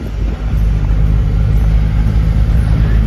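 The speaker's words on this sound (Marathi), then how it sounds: "ट्रॅफिक आहे पुढे" A car engine rumbles low and steady in road traffic, a close, continuous drone with mild fluctuations and no pauses.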